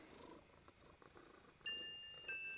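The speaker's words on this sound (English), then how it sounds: "Look, he's purring." A cat purring softly up close while being held, a low steady rumble that runs throughout, with a couple of brief high electronic tones near the end.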